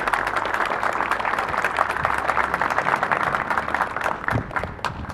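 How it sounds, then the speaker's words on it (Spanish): Applause fills a ceremony opening a new academic semester at an institute, steady dense clapping from a large audience with a few cheers, continuing throughout and slightly tapering near the end. "quisiera un fuerte aplauso"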